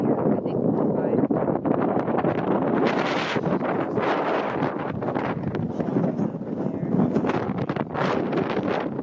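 Strong wind gusting across a mountainside campsite, roaring and buffeting the microphone continuously with surging gusts throughout, loud and close.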